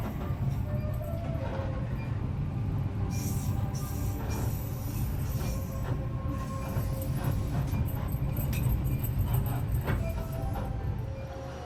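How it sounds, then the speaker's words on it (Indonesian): The Banyubiru economy train rumbles steadily nearby with low mechanical droning, squeals and clanks over a constant background, pulling slowly into Semarang Tawang station, Indonesia. "kereta Banyu Biru tiba di stasiun Semarang Tawang"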